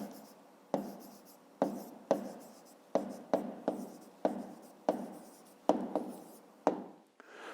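Numbers are written by hand on paper for a fifth-grade math exercise, with a close, scratchy run of short pen strokes in uneven bursts and brief pauses between them.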